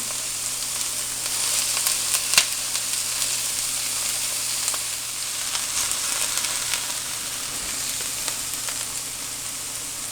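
Onion sizzles steadily in a pan alongside green pepper while baked spaghetti sauce is being built, a constant close hiss of frying with a brief clatter near the start and no talking.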